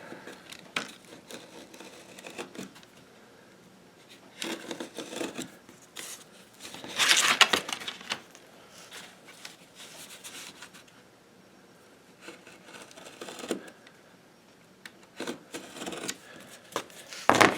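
Scissors or a blade trim the edges of a homemade sanding belt, giving soft intermittent rubbing and snipping strokes at close range, with a busier cutting burst midway and no speech.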